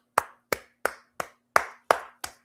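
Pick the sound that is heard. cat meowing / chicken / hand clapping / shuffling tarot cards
hand clapping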